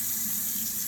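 Lukewarm water runs steadily from a tap to dampen a cloth while making dough, a continuous close hiss of flowing water with no talking.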